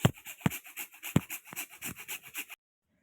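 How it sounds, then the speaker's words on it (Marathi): Rhythmic rasping strokes of whole nutmeg rubbed over a small grater for peanut ladoos, about a dozen quick scrapes close by, some louder than others, then silence. "हे आहे जायफळ, थोडंसं जायफळ किसून घेऊ।"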